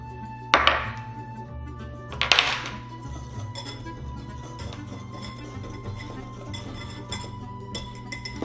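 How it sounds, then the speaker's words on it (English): A whisk stirs dry flour, baking powder and salt together in a bowl for cupcake batter. Two clanking bursts come first, then a run of quick, light clinks and taps against the bowl, close and moderately loud. "So you're just going to want to whisk all the dry ingredients together."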